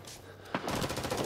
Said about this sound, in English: Somebody's shooting over here.